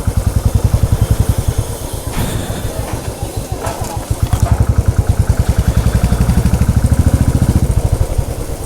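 A motorcycle engine idles with a steady, fast pulsing throb on the street at MG Marg in Gangtok, Sikkim, close and loud throughout, with a brief burst of traffic noise partway through.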